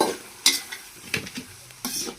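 Fried prawns stirred into half-cooked chicken in a pan, intermittent scraping strokes and sharp metallic clinks over a quiet sizzle, close by, no speech.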